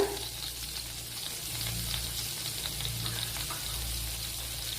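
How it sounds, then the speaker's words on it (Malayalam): Fenugreek seeds and chopped ginger fry in hot coconut oil for a fish curry, a steady, close crackling sizzle with faint stirring and no talking. "അതിലേക്ക് ഒരു കാൽ ടീസ്പൂൺ ഉലുവ കൂടെ ചേർത്ത് കൊടുക്കുക അതിനുശേഷം ഒരു ടേബിൾ സ്പൂൺ ഇഞ്ചി ചോപ്പ് ചെയ്ത് ചേർത്ത് കൊടുക്കുക"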